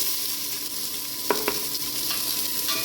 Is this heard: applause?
no